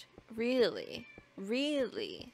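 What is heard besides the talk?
cat meowing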